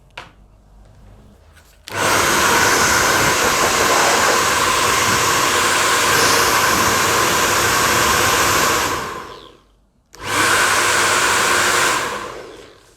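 A hair dryer switches on and blows with a loud, steady whoosh for several seconds, cuts off briefly, then starts up again.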